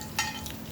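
Shrimp and rice frying in a stir-fry pan give a steady sizzle with a brief sharp stir of the food, close and fairly quiet.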